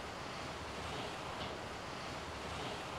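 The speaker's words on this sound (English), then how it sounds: "looking right out onto the ocean" Ocean surf washes along the rocky coast of California's 17 Mile Drive, a continuous broad roar with wind noise, faint and steady with no voices.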